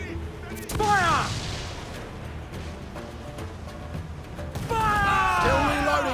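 Ship cannons boom during a naval battle in Assassin's Creed IV: Black Flag, heavy blasts with rumbling tails and whistling projectiles amid continuous battle noise, while crew voices shout over the gunfire.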